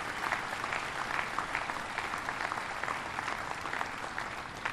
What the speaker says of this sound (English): let's give these great builders a round of applause